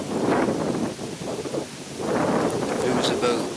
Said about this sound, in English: It's honestly too windy in my opinion.